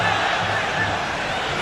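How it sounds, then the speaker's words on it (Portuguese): A football stadium crowd in Montevideo, Uruguay, at a Copa do Brasil 2011 match between Avaí and Vasco makes a broad, sustained roar of booing at a player wasting time. The noise holds steady throughout with no clear peaks. "a torcida vaiou porque ele estava ganhando tempo"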